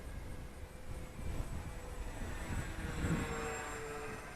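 A Fun Cub RC model airplane, an 1100mm wingspan EPO foam kit, drones steadily through its maiden flight at moderate distance, a continuous electric motor whine with a slight swell in the middle and no talk over it.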